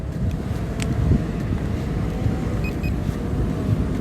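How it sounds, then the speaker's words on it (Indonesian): Strong wind blows during a flight of an SJRC F11 Pro 4K drone, a steady loud buffeting rush that fills the whole stretch with no talk. "anginnya kencang sekali."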